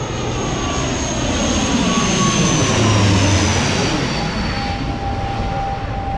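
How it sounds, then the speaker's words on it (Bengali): An Air Arabia Airbus A320 departs from Dhaka airport on a foggy morning, its jet engines producing a loud, sustained roar with a whining tone that swells near the middle and eases slightly toward the end. "এয়ার অ্যারাবিয়ার এই বিমানটি প্রায় 10 মিনিট থাকার পরে যাচ্ছে।"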